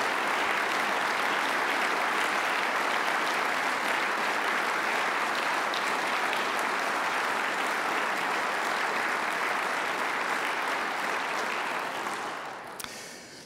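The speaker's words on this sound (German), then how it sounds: "Ihr Applaus." Sustained audience applause fills the hall at the German Environmental Award ceremony, dense steady clapping from a large crowd that holds for about twelve seconds and then fades out at the end.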